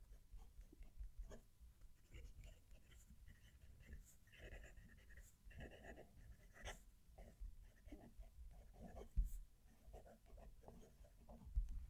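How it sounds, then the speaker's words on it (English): Fountain pen nib from a Moonman/Majohn pen scratching across paper while a sentence is written, a soft close papery scrape in short strokes with small pauses, faint and alone. "Let's move the mic, write a sentence."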